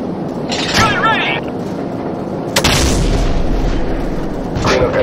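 Heavy gunfire booms from a mounted gun in Call of Duty 4: Modern Warfare, two loud blasts a couple of seconds apart and a third starting near the end, with voices talking between them.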